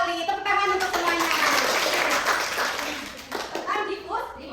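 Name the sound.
classroom applause for the students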